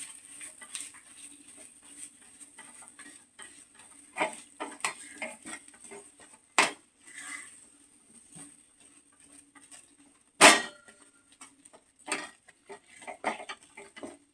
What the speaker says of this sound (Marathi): खवा हा पूर्णपणे छान मिक्स करून घ्यायचा आहे